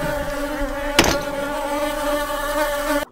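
Steady, loud buzzing of killer bees inside a box with a constant droning pitch, broken by one brief knock near the start, ending abruptly.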